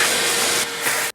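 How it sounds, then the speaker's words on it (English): Vacuum cleaner running steadily close up, sucking debris out of a BMW X5 engine bay that sat under a tree, a continuous broadband whoosh with a slight dip in pitch partway before cutting off. "I'm going to vacuum all this out because it was under a tree"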